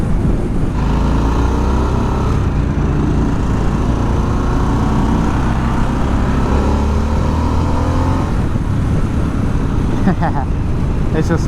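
A Harley-Davidson Sportster S motorcycle engine revs loud and close, with a steady deep rumble that climbs and falls under light throttle, someone talking over it.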